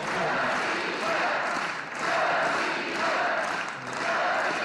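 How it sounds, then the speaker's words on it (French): A crowd at a Russian political rally cheers and applauds in loud, swelling waves that rise and fall every second or so, with a voice talking over it. "Je suis heureux que la foule ovationne les noms de Medvedev et Poutine"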